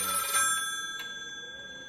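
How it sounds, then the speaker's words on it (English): A telephone rings in the Unshattered Destination horror game, a short electronic ring fading out over a sustained tonal drone, fairly faint and with no voices. "Phone! Fuck that phone. Phone!"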